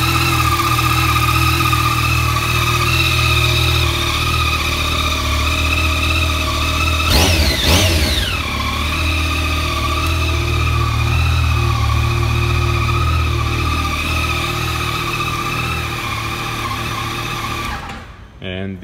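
A motorcycle fitted with a radiator runs at a dealership in a steady, loud engine drone. A quick double throttle blip briefly sends the pitch rising and falling partway through, then the engine cuts off near the end.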